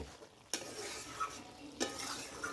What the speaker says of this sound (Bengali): তো এখন আমি আর একটু কষিয়ে নেব।